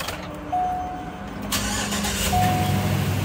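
A school bus engine cranks with a whirring starter and catches, rising into a steady idle rumble close by, with no voices over it.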